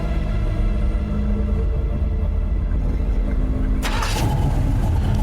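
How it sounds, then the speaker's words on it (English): A truck engine turns over and catches inside a dark escape scene, a steady low rumble with a sharper burst as it fires, loud and close with no talking. "Then you hear some keys jingle, and the sound of an ignition starting."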